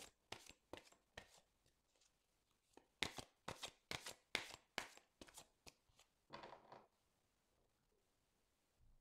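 Cards are shuffled and drawn for a love-advice card reading: a string of close, crisp riffling bursts and slaps in quick succession, then a softer sliding shuffle before a quiet pause.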